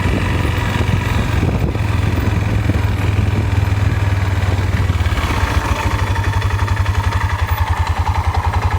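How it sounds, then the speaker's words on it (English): An ATV engine idles close by with a low, even rumble and light mechanical clatter, settling into a faster regular putter toward the end. "4-wheeler's been idling here pretty good."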